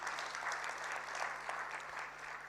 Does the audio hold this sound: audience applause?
yes